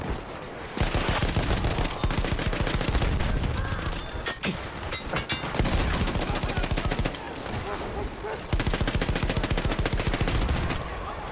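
Dense, sustained gunfire from the Battlefield 1 video game during a multiplayer battle, with rapid automatic bursts and heavy shots rattling almost continuously and loudly, briefly dropping out between volleys.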